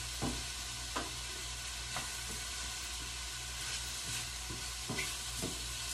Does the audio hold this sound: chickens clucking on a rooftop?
no